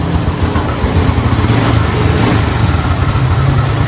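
A kick-started motorcycle engine runs at idle without revving, a steady close putter with a throbbing low rumble throughout.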